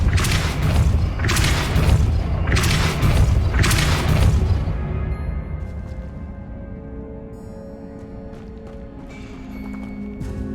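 Repulsor spell cast in the Hogwarts Legacy video game: four heavy booming thumps in a steady rhythm, loud and close, then a quieter tail of ringing magical shimmer.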